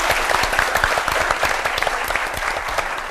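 Studio audience applauding to welcome a guest onto a Turkish television talk show, dense sustained clapping throughout, loud and close, with no talk over it.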